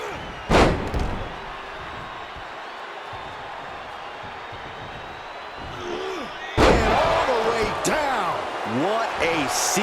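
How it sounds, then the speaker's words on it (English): Two heavy suplex slams thud onto the ring mat in WWE 2K24, one early and one later, each followed by crowd noise, with commentary voices talking between them. "Really taking them out of sorts with those suplexes."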